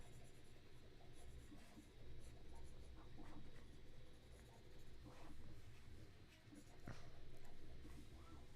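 A graphite pencil shades on paper with a soft, continuous scratching rasp, quiet and close, its back-and-forth strokes rising and falling with no speech.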